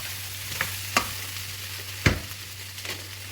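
Tomato goes into a pan of frying potato, cauliflower and peas for aloo gobi mattar, giving a steady low sizzle broken by a few sharp stirring scrapes and clinks, one louder knock near the middle.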